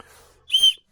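A short, shrill blast on a small plastic whistle built into a survival kit knife and spoon, close and loud for about a quarter second after a brief quiet moment.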